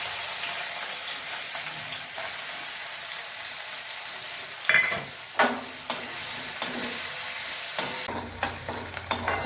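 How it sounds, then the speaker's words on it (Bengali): Chopped onion fries in hot mustard oil in a wok, a loud, continuous close sizzle. From midway on it is broken by scraping stirs and clinks of a utensil against the pan. "এতে আমি পেঁয়াজ কুচিটা দিয়ে দেব।"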